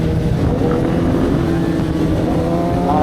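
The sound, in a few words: motorcycle passing on a downhill road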